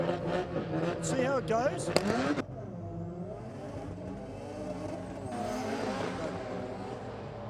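A small-tyred Mazda drag car launches off the start line at a night drag racing event, engine note rising sharply for about two seconds before dropping to a steadier, more distant drone, with a commentator talking over it.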